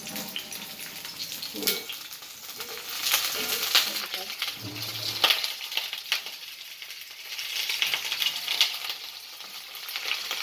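Fish frying in hot oil, with a bright, crackling sizzle that swells and fades in bursts, mixed with stirring and a few clatters, up close.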